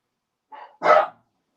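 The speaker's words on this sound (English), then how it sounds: "the dogs are going nuts" Dogs bark indoors at close range, a short softer bark followed by a loud full bark, alone in an otherwise silent room.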